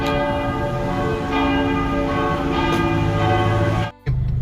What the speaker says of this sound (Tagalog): Galing ng kampana.